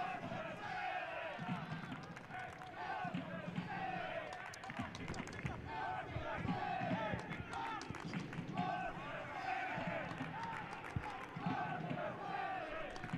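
Stadium crowd at a Boston City FC versus Hartford City FC soccer match, a steady roar of cheering and shouting that persists throughout, with a commentator's voice layered on top.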